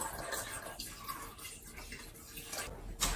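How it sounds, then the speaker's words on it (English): Water is poured into a pot over persimmon fruit and sugar for jam, a steady close splashing rush that runs on without a break. "I'm gonna add some water to it."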